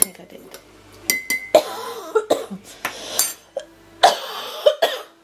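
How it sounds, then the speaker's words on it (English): Several sharp coughs burst out at irregular intervals, close and fairly loud, with faint clinks of dishes and cutlery in between and a voice speaking now and then. "So sorry for all the coughing."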